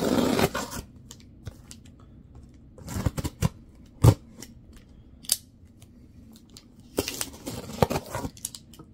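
A plant shipping package holding a Monstera Thai Constellation being opened by hand: sharp snips, crinkling and tearing of packaging in irregular bursts separated by quiet pauses, close and clear, with no talking.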